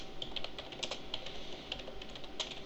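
Quiet, close typing on a computer keyboard, a fast irregular patter of light key clicks with no voices.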